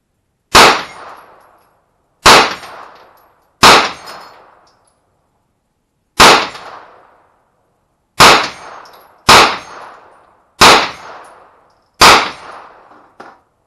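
Eight sharp, loud unsuppressed gunshots from a Ruger 9mm carbine, fired one at a time at irregular intervals, each with a quick echoing tail fading into silence between shots.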